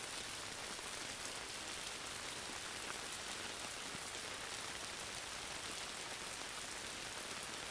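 Steady healing rain falling on a surface, a dense, even hiss of countless raindrops that stays constant throughout, with no voices.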